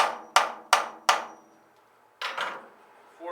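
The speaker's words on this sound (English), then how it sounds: "tap the chuck in, so we can mount each one of these on the lathe to turn the legs" A lathe chuck is hammered into a hardwood leg blank: three sharp, evenly spaced knocks, a pause, then a duller double hit, each ringing briefly in a quiet workshop.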